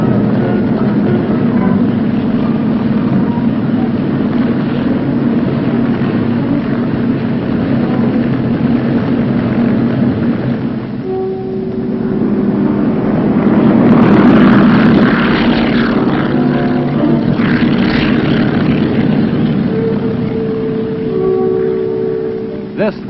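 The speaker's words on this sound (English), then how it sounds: "Utilizing 3 centrally controlled helicopter squadrons, the men of the 3rd Battalion were airlifted to Landing Zone Oak" Military helicopters of three squadrons airlift troops of the 3rd Battalion from a makeshift helipad near Chu Lai to a landing zone in Vietnam, giving a steady, loud rotor and engine drone that swells midway, under voices.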